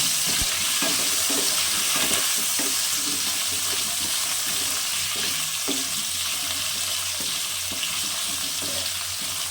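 Raw banana and potato fry in a pan of oil, a continuous close sizzle broken by repeated scraping and knocking as a utensil stirs them, with no voices.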